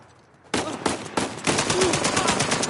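Rapid bursts of automatic gunfire from a firefight in the video game Uncharted 4, opening after a brief quiet stretch and then rattling on continuously, close and loud, with no talking.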